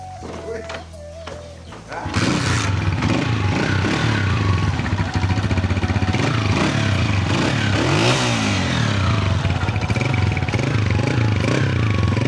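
A Honda CG125 motorcycle engine and silencer idle briefly, then switch to a loud, continuous throbbing exhaust note for the rest of the clip, close by with slight revving swells.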